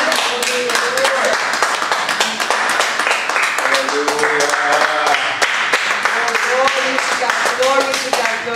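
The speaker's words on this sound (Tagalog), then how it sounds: "Sa pangmalakas na palakpak sa Diyos." A church congregation claps loudly and rhythmically during a service, sharp hand claps mixed with excited voices and exclamations from the crowd throughout.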